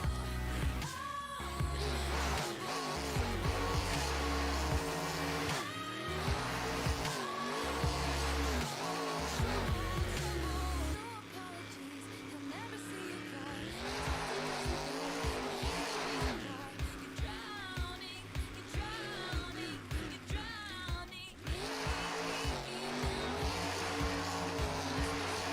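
Monster trucks roar through a Monster Jam race in Houston, with loud revving engines, shifting pitch and rumbling bursts that fill the arena continuously, punctuated by surging accelerations and crowd-level noise.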